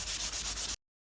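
Abrasive pad scuffing fabric car upholstery on a blue MK2 Golf GTI 16v before painting, a close, rhythmic back-and-forth rubbing of about five strokes that stops abruptly into silence.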